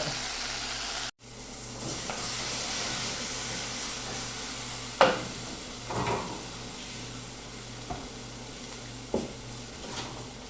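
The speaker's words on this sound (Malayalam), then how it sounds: "അപ്പോൾ നമ്മൾ ഉള്ളി ഇങ്ങനെ മൂത്തുകൊണ്ട് എടുക്കണം കേട്ടോ" Onions and curry leaves fry in a pan for an egg curry. A soft continuous sizzle is broken by occasional clinks and scrapes of a utensil against the pan, and no one speaks.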